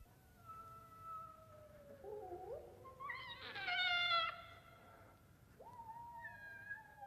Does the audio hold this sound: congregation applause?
no